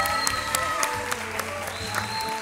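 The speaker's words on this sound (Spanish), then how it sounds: "Un aplauso para Fernando" Studio audience applause on a Spanish-language TV singing show, a dense burst of clapping under music and tonal sounds, with sharper accents rising through the brief stretch.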